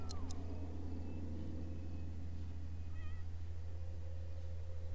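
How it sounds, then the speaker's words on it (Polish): Cat meowing in The Sims 3 video game, a short meow at the start and a faint wavering cry near the middle over a low steady hum. "Kot. Tak, to jest kot."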